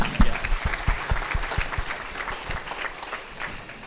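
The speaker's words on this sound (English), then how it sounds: "Everyone, please give him a hand of applause." Audience applause at a hall of fame banquet, a room full of steady clapping that starts loud and tapers slightly over a few seconds, with individual sharp claps standing out near the front.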